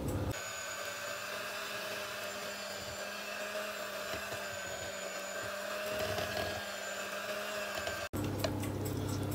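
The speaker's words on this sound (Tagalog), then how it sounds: "imimixer natin ng electric mixer lang ang gagamitin ko" An electric mixer whirs while mixing condensed milk, a steady motorized hum with fixed tonal whine that runs for about eight seconds before abruptly cutting off.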